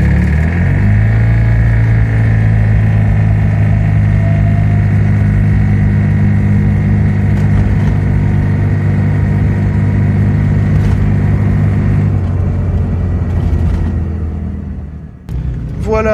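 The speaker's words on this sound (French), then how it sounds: "je vous propose de faire, pour commencer, un petit test d'accélération. Et nous allons calculer le 0 à 50." A Ligier JS60 Ultimate microcar accelerates from standstill to 50 km/h, its small engine droning loud and steady with a faint rising whine from the cabin, then easing off abruptly near the end.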